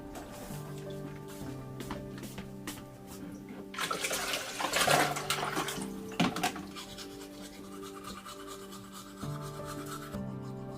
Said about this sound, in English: he washed his face and brushed his teeth